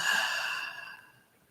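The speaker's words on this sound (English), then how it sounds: "You can even do simply inhale, exhale" A single slow breath during a guided centring practice, audible and close, fading from a breathy release into quiet over about a second and a half.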